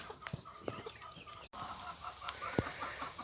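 Hens cluck softly in scattered short calls against a faint outdoor background, nearby but quiet.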